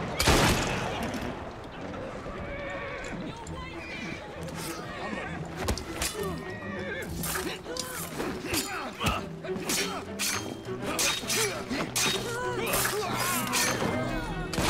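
Gunfire in the Assassin's Creed Syndicate video game, a loud opening shot followed by irregular bursts of shots, clanks and crashes over background game sound, with a person talking intermittently.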